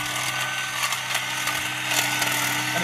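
A hedge trimmer cuts through branches with a steady, buzzing motor whine and a dense rattle of blades, continuous and close throughout, with no talking.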